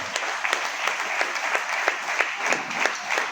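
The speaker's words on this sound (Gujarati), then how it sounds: "જોરદાર તાળી પાડીએ જુવાનોના માટે" A congregation at a pastor's birthday gathering claps for the young men, steady rhythmic applause with sharp individual claps, loud and close, without any talking.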